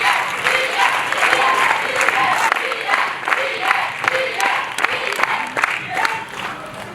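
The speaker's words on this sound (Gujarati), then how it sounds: "યસ, ચીયર કરતા રહો." Audience at a school drug-awareness event in Bardoli, Gujarat, cheering and applauding: a steady wash of clapping and crowd noise with scattered shouts, moderately loud and sustained throughout, thinning slightly toward the end.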